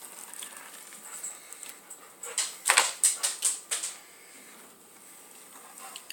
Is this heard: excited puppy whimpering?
yes